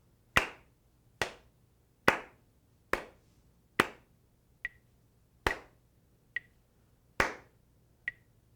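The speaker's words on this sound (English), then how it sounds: "So this is how that would sound if I were to clap it." A single pair of hands claps a simple practice rhythm of quarter, half and whole notes, giving about a dozen sharp, close claps in an evenly paced pattern with a few softer taps in between, in a quiet room.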